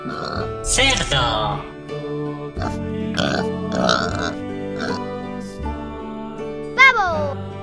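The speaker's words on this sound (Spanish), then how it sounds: "Cerdo." A domestic pig grunts and oinks close by in a series of rough, belch-like snorts with brief gaps, heard alone.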